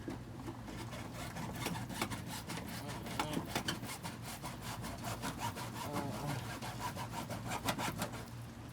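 Steady back-and-forth strokes of a hand saw cutting a car's front splitter, rhythmic and continuous, close up with no talking.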